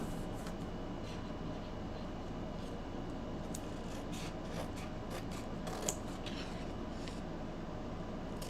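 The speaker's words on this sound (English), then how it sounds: "So I'm going to get some scissors." Scissors cutting out a printed transfer, a close, quiet run of small snips and rustles over steady background hum.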